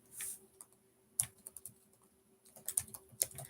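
Typing on a computer keyboard in short bursts of key clicks separated by pauses, close and fairly quiet, with no talking.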